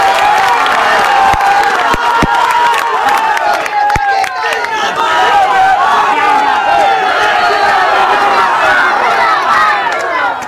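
Large crowd of young supporters at an Ulama Council rally applauding and cheering, dense clapping and shouts sustained loudly throughout without a break.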